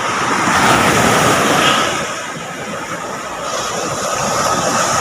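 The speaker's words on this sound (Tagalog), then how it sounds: "Yan now, sunod-sunod din malaking alon mga ka-update." Strong sea waves whipped up by the northeast monsoon along a provincial coast, a loud, continuous roar of surf and rushing water with a slight swell and fall in intensity.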